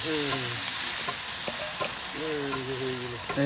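Pumpkin and chopped potato frying hard in a pan on a simple family cooking fire, a steady close hiss of oil with stirring scrapes and clinks, while a voice talks briefly at the start and near the end.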